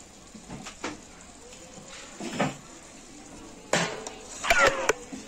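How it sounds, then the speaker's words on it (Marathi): Cooked kolam rice being stirred into cooked vegetables and soft potato in a pot for vegetable pulao, heard as a few scattered metal spoon scrapes and clinks against the pot, soft between louder clatters. "हा कोलम राईस मी शिजवून घेतलेला आहे. तो आता आपण त्या भाजीमध्ये मिक्स करणार आहोत."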